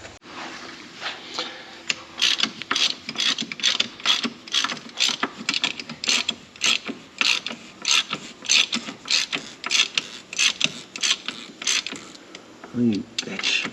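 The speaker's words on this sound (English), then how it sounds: "I'll get a socket, we'll tighten it up, and hopefully it'll suck it in place." A socket wrench ratchets while tightening a bolt on a tractor's broken front suspension. The clicking strokes are close and come in short repeated bursts with brief pauses between them, and a short voice is heard near the end.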